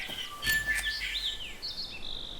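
Several birds call and chirp in the hunting game theHunter: Call of the Wild, with bright tweets and whistled phrases overlapping at close to mid distance over a soft ambient bed, no talking.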